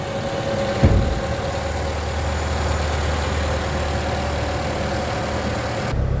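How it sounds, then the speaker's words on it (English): A 2009 Toyota RAV4 engine idles with the motor running, a steady low hum that continues evenly after a brief thump near the start. "with the motor running"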